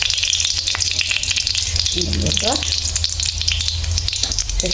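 Bay leaves and dried red chillies hit hot oil for tempering, giving a loud, steady crackling sizzle throughout with a brief clatter of stirring partway through.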